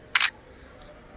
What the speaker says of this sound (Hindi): जैसे अभी यहाँ पे मैं इस फिल्टर के साथ एक सेल्फी क्लिक कर रहा हूँ,